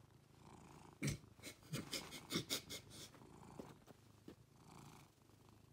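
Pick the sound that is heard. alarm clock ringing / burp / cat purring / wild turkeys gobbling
cat purring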